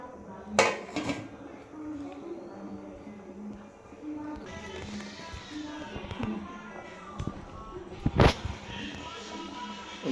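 A cooking pot of chicken gravy gets its lid set on, with a few metallic clanks and clatters of cookware over a low, continuous kitchen background.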